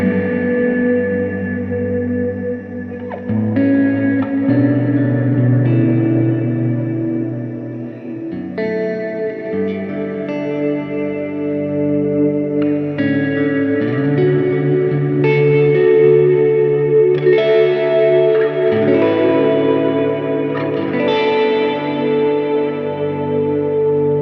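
Electric guitar running through a worship-style pedal board, tone knob rolled down, swells into a lush pad-like ambient wash; chords blend and decay endlessly with heavy reverb and echo, loud and continuous without any talking.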